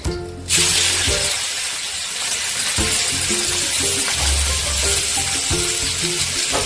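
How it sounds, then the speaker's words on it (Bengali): Onions dropped into a pan of frying spice masala with cloves, a sudden loud burst of sizzling that settles into steady crackling frying, with occasional stirring clunks and no voices. "এবার আমি দিয়ে দেবো পেঁয়াজ"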